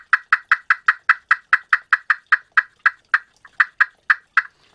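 Glass turkey call worked with a wood striker, giving a steady run of about twenty sharp, evenly spaced yelps, close and loud, with a short break before the series resumes.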